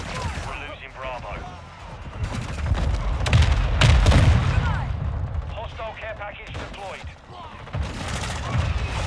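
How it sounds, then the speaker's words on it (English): Mortar strikes and gunfire in a Call of Duty Modern Warfare 2 (2022) multiplayer match: heavy booming blasts and rapid shots crowd close together, with game voice lines talking over them. "Hostile mortar strike near your position"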